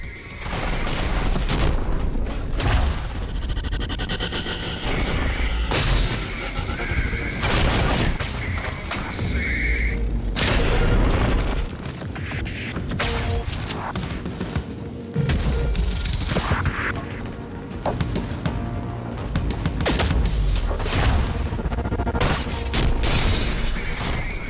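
Heavy, continuous explosions and booming blasts from enemies' explosive weapons in a shooter video game, dense and loud throughout with crashing impacts and rattling gunfire layered in.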